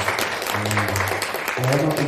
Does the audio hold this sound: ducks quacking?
no